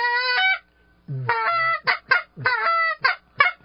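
A series of goose honks in an indoor room, apparently a person imitating a goose: one long nasal honk, then about six shorter, clipped honks in uneven rhythm, each loud and close.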